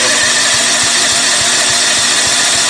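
Electric starter cranking a Toro 11/32 snowblower engine, a steady whirring motor with a rhythmic pulse of compression strokes about three or four times a second, close and loud throughout.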